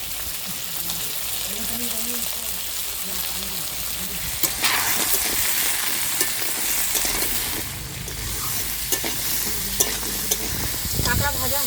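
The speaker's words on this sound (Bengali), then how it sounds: "কাঁকড়া ভাজা হয়ে গেছে" River crabs with red roe fry in a pan with a steady, close sizzle, broken by stirring scrapes and occasional louder spits; a faint voice sits under the opening seconds.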